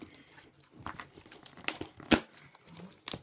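Close crinkling and tearing of parcel packaging being opened, paper or plastic, in uneven bursts with a few sharp rips, quiet overall.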